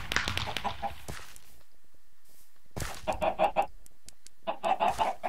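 Clucking from a fake chicken character in a video game, several short bursts of rhythmic fowl-like clucks at the start and again later, separated by a quiet gap.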